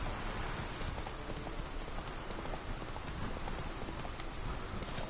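Horse hooves clip-clopping over a steady patter of rain in The Witcher 3, the hoofbeats faint and regular beneath the constant rain.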